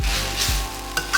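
Noodles and Chinese cabbage stir-frying in a hot pan, a close, dense sizzle with a brief thump of food being tossed and a couple of quick scraping clicks.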